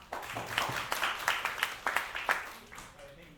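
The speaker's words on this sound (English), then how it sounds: "Let's give him a round of applause." A short burst of clapping from a small group, sharp and uneven, fading out after a few seconds, with a voice heard faintly under it.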